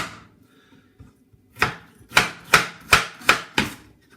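A Coolina chef's knife slices food into thin strips on a cutting board, giving six sharp, evenly spaced chops that are close and loud, with quiet moments before them.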